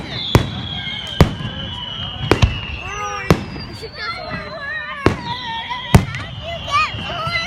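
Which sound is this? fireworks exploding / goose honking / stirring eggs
fireworks exploding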